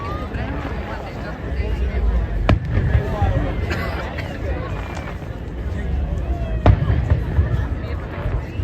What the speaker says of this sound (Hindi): नीचे जो पटाखे फूट रहे हैं